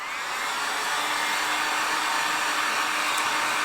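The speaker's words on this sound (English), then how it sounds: "we're going to use the heat gun and dry this up" A heat gun blowing hot air to dry paint on a craft pot, a loud, close, continuous whooshing roar with a steady airy hiss that holds for several seconds without pause or voices.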